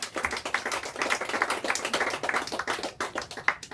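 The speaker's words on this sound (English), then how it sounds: "Let's give them a round of applause" Audience applause at a community roundtable in Menomonie honoring people who mentor inmates at the Dunn County Jail: steady, dense clapping from a roomful of hands, moderately loud throughout with no talk.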